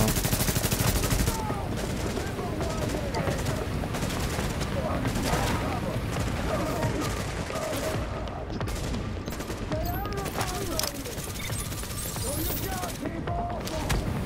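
Dense, continuous gunfire from Tom Clancy's The Division, with rapid overlapping bursts and automatic fire filling the whole stretch at steady loudness, with players' voices talking over the shooting.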